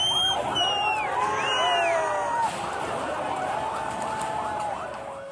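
Emergency siren from a fire brigade responding to the Gul Plaza wholesale market fire in Pakistan, wailing and warbling in overlapping sweeps over steady street noise with voices mixed in.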